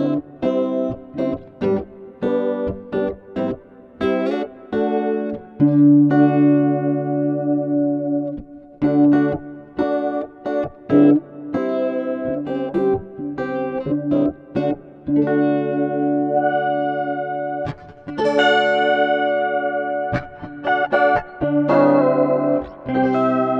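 An electric guitar runs through a Meris Enzo pitch shifter with modulation added, producing an organ-like tone. Phrases of sustained, chorused notes play alone, with short pauses between them.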